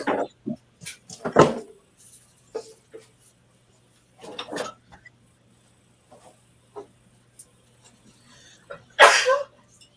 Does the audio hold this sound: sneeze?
yes